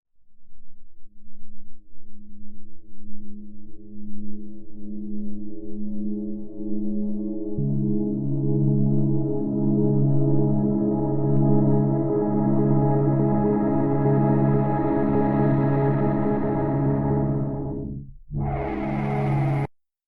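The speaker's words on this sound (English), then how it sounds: "this sample, which I'm processing, sounds like this" Processed main chord sample from a synth drop, looped with effects: sustained layered harmonic chords that brighten and thicken over about eighteen seconds, a shift in the low chord partway through, then a sharp sweeping cutoff near the end.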